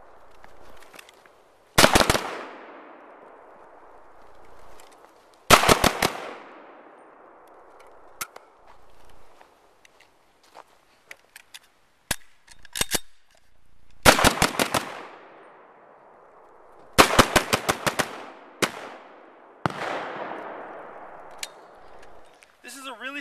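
An M1 carbine fires in the open, with sharp, loud shots arriving in quick clusters of two to five, each followed by a ringing echo tail, plus a few scattered single pops between volleys.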